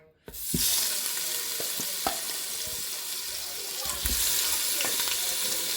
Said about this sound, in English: I'm gonna go ahead and add the cow heel inside of it so that it can start to sear.